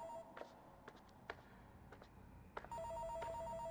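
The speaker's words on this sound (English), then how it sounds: "The phone's ringing." A telephone rings in repeated electronic trills, fairly quiet and alone, with sharp taps between the rings before a steadier ringing pattern takes over near the end.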